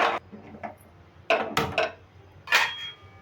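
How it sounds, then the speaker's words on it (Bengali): Metal kadai set down on a gas stove, a few close clanks and knocks of the pan against the burner grate, with quiet gaps between. "আর কড়াইটাও বসিয়ে দিলাম"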